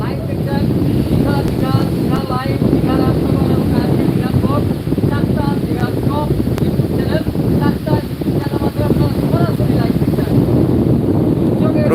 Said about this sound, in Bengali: চলছে প্রবল গতিতে বাতাস প্লাস হচ্ছে বৃষ্টি